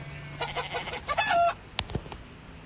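Chickens cluck in a short burst in a farm video game, Animal Discovery 3D, followed by a few sharp knocks and thuds; close and moderately loud, with no speech.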